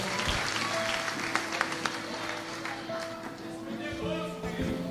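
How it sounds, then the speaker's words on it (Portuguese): Broad church congregation clapping, continuous and fairly loud, with music or voices mixed in underneath. "Os que podem, tomem o seu assento aplaudindo a Jesus"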